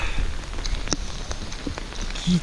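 Heavy rain pours steadily along a pilgrimage walking trail on the Camino de Santiago, with dense drops drumming on surfaces nearby and a few sharper close splats standing out; no voices.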